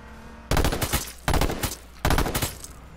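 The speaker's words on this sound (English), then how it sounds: "They got a sniper shot on us" Three loud, sharp sniper shots from H1Z1 in quick succession, evenly spaced under a second apart, each booming close and leaving a short rumbling tail before the next.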